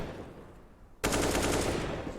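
Counter-Strike gunfire on the Nuke map during a BLAST Premier match: a quiet second, then a sudden loud, sustained burst of rapid automatic shots that fills the rest of the moment.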